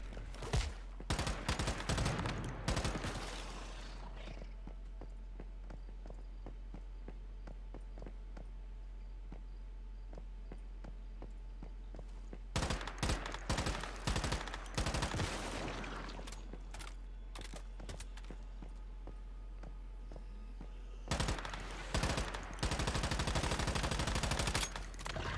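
Video game gunfire aimed at the player comes in dense rapid bursts at the start, middle and end, loud crackling volleys separated by quiet stretches.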